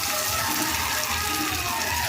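Chopped tomatoes dropped into hot oil with spices, giving a loud, dense, continuous sizzle with no pauses.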